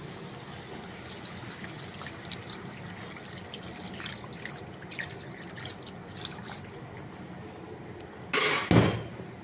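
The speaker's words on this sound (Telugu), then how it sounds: "అలాగే వాటర్ కూడా యాడ్ చేద్దాం ఫ్రెండ్స్." Water added to a simmering fish curry with tamarind juice: a steady wet bubbling and trickling bed with scattered drips and small clinks, then a brief louder splashing pour near the end, no talking.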